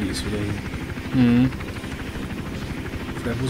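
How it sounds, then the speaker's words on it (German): A helicopter in the video game Hitman Absolution gives off a steady rotor thrum throughout, with a brief louder hum partway through. A person talks over it. "Der Heli ist wieder hier."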